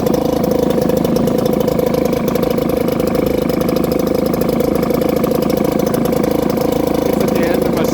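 A Mercury 4hp two-stroke outboard engine idles steadily, a loud, close, buzzing putter with a constant even rhythm and no change in pace across the whole stretch.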